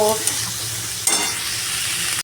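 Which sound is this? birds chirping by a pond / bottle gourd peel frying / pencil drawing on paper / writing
bottle gourd peel frying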